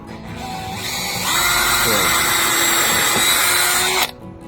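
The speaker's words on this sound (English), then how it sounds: "we got the holes drilled for the hasp" A power drill whirs up, holds a steady loud whine for a few seconds, then stops abruptly, drilling holes for a hasp on an e-bike storage shed.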